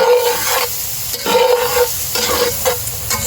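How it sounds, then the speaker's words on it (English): Flour and butter cook in a Lodge camp Dutch oven for Salisbury steak gravy, giving a steady close sizzle with scraping stir strokes recurring every second or so, no talking. "I'm giving that flour and butter a few minutes to cook"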